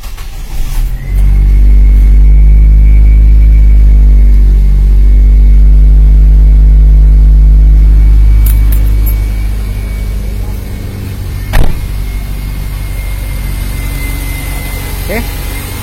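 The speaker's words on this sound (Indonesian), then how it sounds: "kita tinggal melakukan penghidupan pada mesinnya" A Nissan Grand Livina engine, jump-started, is cranked and fires into a loud close idle that sounds rough and uneven, then settles to a steadier running hum with a brief clunk near the end.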